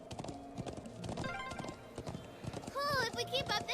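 Horse hooves clip-clop in a steady rhythm in the Trails of Cold Steel video game, with a brief whinny. Voices talk over the hoofbeats.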